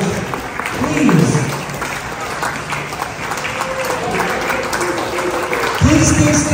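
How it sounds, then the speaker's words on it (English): A crowd applauds veterans at a Veterans Day gathering in a senior living community, sustained clapping from many people with voices rising and talking over it at the start and again near the end. "please give them a nice round of applause"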